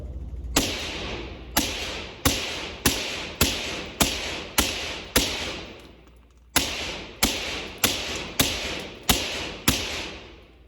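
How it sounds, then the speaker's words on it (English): Suppressed shots from a PSA 5.7 Rock pistol firing standard non-subsonic ammo crack out in two quick strings of about a dozen sharp, loud reports, each with a short decaying tail, a brief pause between strings and no talking. "First shots, suppressed."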